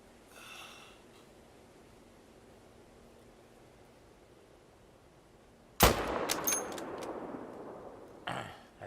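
A single loud rifle shot fired at an animal in the hunting game theHunter: Call of the Wild, sharp crack after a quiet outdoor stretch, followed by a lingering echoing tail and a later rustle.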